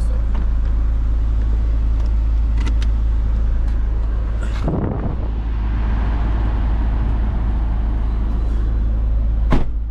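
A car bought at an auto auction drives out through the lot gate, with a steady, close, loud engine and road rumble and a couple of dull thumps midway.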